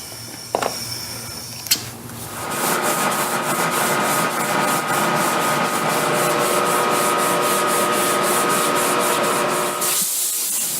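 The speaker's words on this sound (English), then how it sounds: "All of my final sanding I do by hand, in line with the grain." Steady, rhythmic scratching of sandpaper rubbed back and forth by hand along the grain of a handmade guitar's wood, close and continuous after a couple of brief knocks at the start.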